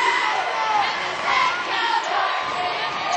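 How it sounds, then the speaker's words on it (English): Steady, loud basketball arena crowd noise at Memorial Hall in Dahlonega during a North Georgia versus Clayton State men's game, a continuous hostile roar with faint cheering swells and no clear talk. "We'll have to do it against a very hostile crowd here in Dahlonega."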